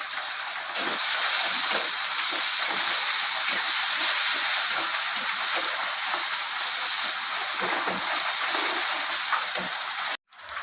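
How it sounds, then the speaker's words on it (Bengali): Garlic paste dropped into hot oil with lightly browned fried onions hisses in a loud, continuous close sizzle that holds steady, then cuts off abruptly at the end. "পেঁয়াজটা হালকা করে লাল করে নিয়েছি এবার আমি রসুন বাটা দিয়ে দিলাম"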